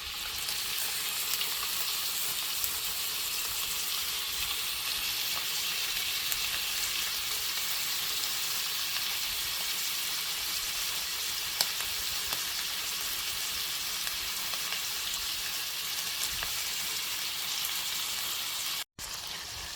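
Lamb heart and beef kebabs on skewers frying in fat on a stove, giving a loud, steady, close sizzle with scattered pops and spits throughout, no talk.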